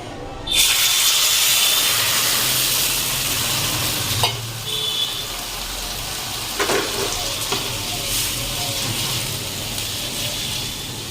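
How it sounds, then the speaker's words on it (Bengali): Spices hit hot oil to temper boiled dal in a home kitchen with a sudden loud burst of sizzling, which settles into a steady frying hiss marked by a few sharp clinks and spatters. "ডালটা ফোড়ন দিয়ে দিচ্ছি"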